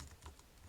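A brief, faint burst of a few quick keystrokes on a computer keyboard, typing a URL into a browser address bar, soft clicks close by with no talking.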